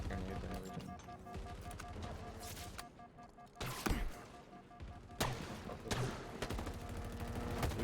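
Halo game combat rings out with rapid bursts of gunfire and several sharp, booming grenade blasts, loud and close, in irregular clusters over a busy background.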